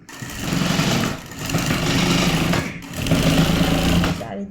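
A sewing machine runs in three loud bursts of fast, steady stitching through fabric, each broken by a short pause, with the mechanical whir staying close and strong.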